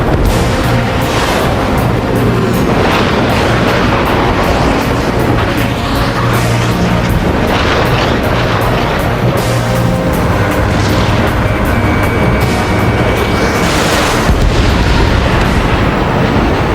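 Missile strikes and explosions from the combat flight game Ace Combat 7 boom again and again at high volume over a constant roar of jet engines, with heavy blasts landing every few seconds.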